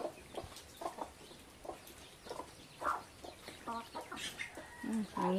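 Chickens and young chicks cluck and peep in short, scattered calls on a rainy-morning farm, fairly faint and close, with faint voices now and then.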